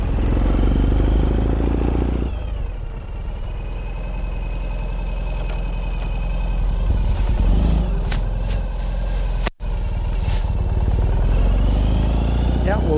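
Ural motorcycle with sidecar, a 2018 Gear Up in woodland camouflage, running close by with a steady engine note and mechanical clatter as gears are shifted, with people talking over it.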